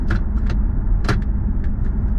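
Gear selector of a Jaguar XKR (X100, 4.2) being shifted, a few short clicks and clunks over a steady low interior engine and road hum.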